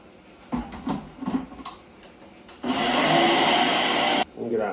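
A blender whirs loudly for a little over a second after some brief clattering and talking, then cuts off abruptly; a mason jar and hot milk are nearby.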